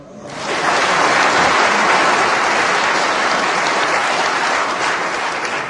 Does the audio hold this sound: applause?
yes